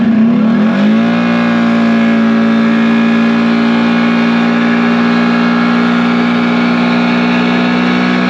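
A 450 ATV engine revs hard during an acceleration pull, pitch climbing quickly then holding a loud, sustained high drone up close, with no talk.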